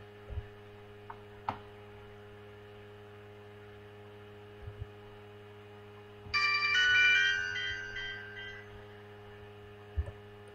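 A short electronic phone ringtone chimes in Garry's Mod DarkRP, a bright melodic burst of a couple of seconds over a quiet steady hum with scattered faint clicks, no speech.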